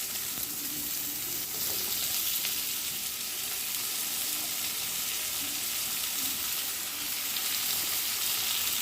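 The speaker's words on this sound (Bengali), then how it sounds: "এবার আমি এর মধ্যে কুমড়োটা দিয়ে দেবো কুমড়োটা দিয়ে দু মিনিট মতো আমি ঢাকা দিয়ে রাখবো নেড়ে চেড়ে" Pumpkin pieces frying in a pan and being stirred for a Bengali pumpkin fry, a steady hissing sizzle with faint stirring scrapes underneath, close and continuous with no voices.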